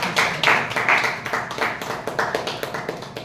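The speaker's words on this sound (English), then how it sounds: "Please, Toastmaster Vasan, please welcome him with a great round of applause." A room of Toastmasters club members claps to welcome a speaker: steady, fairly close hand clapping with distinct individual claps, holding at an even level for a few seconds.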